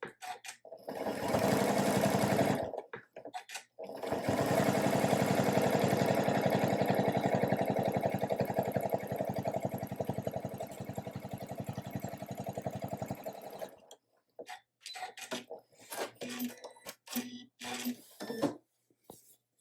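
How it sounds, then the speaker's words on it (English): Sewing machine fitted with a walking foot stitches tape onto the bottoms of small fabric pieces, running in a loud close whir with a brief pause, then a long steady run before stopping among light handling clicks. "And then I'm just going to stitch this on to all of the bottoms of my little pieces."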